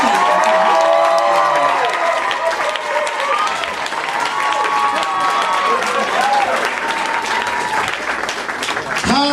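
A comedy club audience claps and cheers loudly for stand-up comedian Brandon O'Neal in Hollywood, dense steady applause with whoops and shouted voices running throughout.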